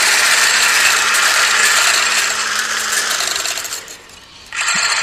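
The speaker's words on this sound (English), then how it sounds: "We take a stick mixer and we are going to whisk the sugar with the milk" A stick mixer whisks sugar into soy milk with a loud, steady whirring buzz that dips briefly near the end, then starts again.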